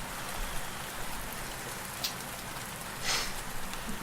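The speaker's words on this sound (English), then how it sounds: "let's get out of the rain." Steady rain falls in a dense, even hiss across the whole stretch, with a couple of brief brighter splashes standing out near the middle and toward the end.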